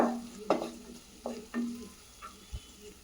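Spatula stirring coriander powder, turmeric and chili powder into sizzling onion gravy for paneer lababdar in a pan, several scraping strokes over a steady low fry.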